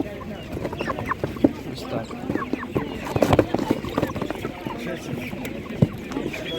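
Chickens and a rooster cluck and squawk in a busy animal market, scattered calls close by over crowd noise, while someone talks over them.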